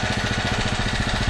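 A small generator engine running on HHO gas rumbles steadily and close, with an even, rapid pulsing idle throughout and no other sounds over it.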